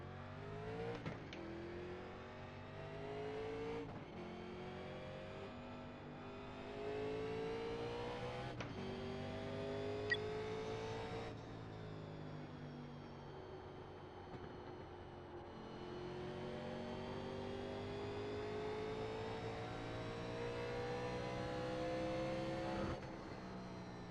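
A NASCAR Legends race car in iRacing at Richmond revs hard through repeated shifts, its engine pitch rising and then dropping again between gears over a long steady run, with no talking.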